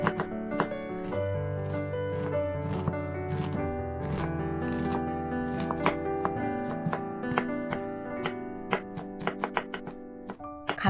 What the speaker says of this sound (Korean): 양파를 잘게 다져줍니다.